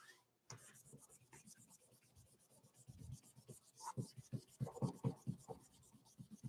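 Paint being scrubbed on Yupo synthetic paper with watercolour and alcohol inks, a faint, quick back-and-forth rubbing with rhythmic strokes close by that grows slightly stronger over a few seconds.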